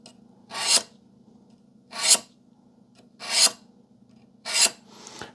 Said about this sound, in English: it just carbide scribe works great